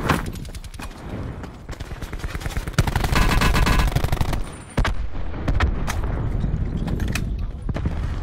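Rapid bursts of automatic gunfire in the video game Call of Duty Blackout crackle in quick succession, loud and sharp, with a few single shots and brief pauses between volleys.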